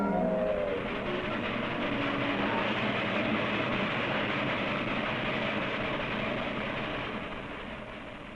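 A postwar Lionel model train runs steadily along its track with a continuous rolling rumble and clatter that fades slightly toward the end.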